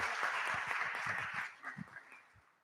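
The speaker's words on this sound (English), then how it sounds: "Just give a round of applause again to these ladies who have done so much" Applause for church quilters at a Lutheran concert, a brief, fairly faint patter of scattered clapping that thins out and fades away over a couple of seconds.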